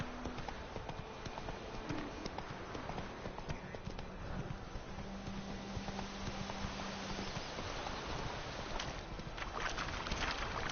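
The horse Roach gallops in The Witcher 3: Wild Hunt, with steady rapid hoof clip-clops that carry on continuously under ambient game sound, fairly close and even in loudness throughout.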